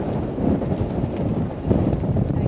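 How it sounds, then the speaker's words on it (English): Strong wind gusting steadily across a sailboat under sail, a rough continuous roar that swells and eases without a break. "Wind's kicking up."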